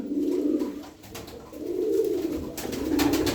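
Pigeons cooing nearby in a loft, three low rounded coos repeating in a steady rhythm, with faint background clatter.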